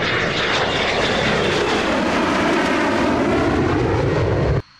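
A Dassault Mirage 2000, a 1970s-designed delta-wing fighter jet, roars loud and steady with a broad engine rush that holds for about four and a half seconds, then cuts off abruptly.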